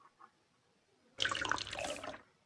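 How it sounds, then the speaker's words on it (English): An XP shower from the Minecraft OpenBlocks mod pouring liquid experience, a faint drip at first, then a sudden steady splashing pour like a running tap that goes on for about a second before cutting off. "So here is an XP shower."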